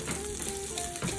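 Asparagus, stems still on, sizzles and spits in the same frying pan just used for steak; a steady, close crackling fry continues throughout with no talking.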